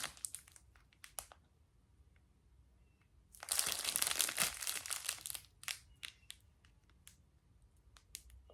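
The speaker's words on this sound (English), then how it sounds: "It does come in plastic baggies." Plastic baggies holding diamond painting drills crinkle and rustle up close, scattered handling sounds broken by a longer, denser burst of crumpling in the middle.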